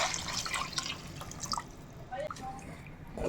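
Tamarind water poured into a simmering fish curry with sundakkai, a steady trickling and dripping of liquid with faint bubbling, close and moderately quiet.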